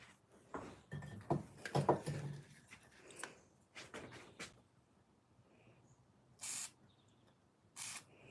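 Short hissing bursts of WD-40 sprayed onto an engine in a workshop, several separate spurts amid faint clicks and handling knocks, fairly quiet and close.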